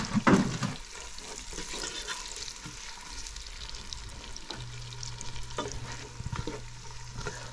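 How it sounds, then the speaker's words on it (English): Chopped onions frying in a pot for a hearty Caribbean soup, a soft continuous sizzle under stirring and clattering, with a louder scrape at the start. "let the onions get translucent and release its lovely flavor"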